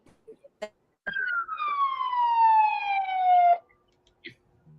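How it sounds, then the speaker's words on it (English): A single siren wail sweeps slowly downward in pitch for a few seconds, heard at moderate distance, with brief knocks and faint background noises before and after it. "there was a siren"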